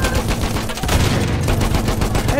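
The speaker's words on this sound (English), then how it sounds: "Enemy machine gun." Sustained enemy machine gun fire in the World War I shooter Battlefield 1, on the Amiens map during a Putilov match, a dense, loud stream of rapid shots layered with other battlefield gunfire and explosions, running the whole time without letup.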